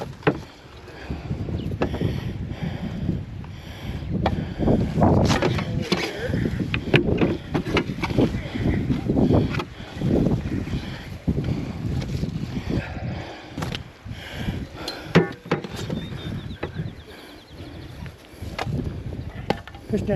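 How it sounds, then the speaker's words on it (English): Strong 20 to 30 mph wind buffets the microphone outdoors while fruit trees are planted, in heavy, uneven gusts, roaring loudly and continuously, with splashing water underneath. "It's real windy, about 20 or 30 mile an hour winds"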